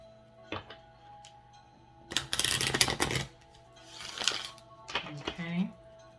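Tarot deck being shuffled by hand, two bursts of rapid riffling card clatter separated by quieter taps, with a person speaking in between.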